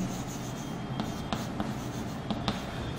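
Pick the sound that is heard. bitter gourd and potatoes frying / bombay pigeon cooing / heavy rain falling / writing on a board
writing on a board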